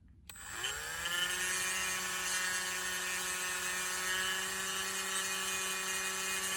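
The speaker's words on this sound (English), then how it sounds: "A small sanding tool, which I'll just give a small demonstration on the back of the face here." A small rotary sanding tool spins up after a click and holds a steady high-pitched whine, close and constant, while sanding the back of a model train face.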